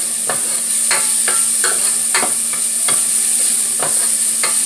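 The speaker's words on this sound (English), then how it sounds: "we're going to give this a good stir up really quick." A spoon stirs garlic, thyme and scallions frying in a pot for Jamaican-style curry chicken, with steady loud sizzling and repeated short scraping strokes at an even rhythm.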